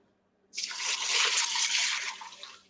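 Four cups of water are poured from close by into an Instant Pot holding brown rice. The pour begins suddenly and keeps up a steady, loud splashing stream, with no talking.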